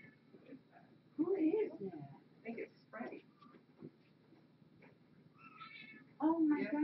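A hoarse, croaky cat meows in short, rough bursts close by, with a person calling out between and over the cries.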